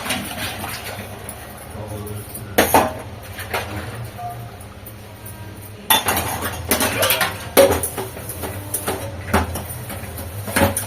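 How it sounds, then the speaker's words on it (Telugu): Egg curry stirred in a pan before fried eggs go in, loud utensil knocks and clanks against metal at irregular intervals over a low kitchen hum, with a bit of quiet talk. "ఇది ఒకసారి మంచిగా మిక్స్ చేసుకొని దీంట్లో ఇప్పుడు మనం ఫ్రై చేసి పెట్టుకున్న ఎగ్స్ వేసేసుకోవాలి"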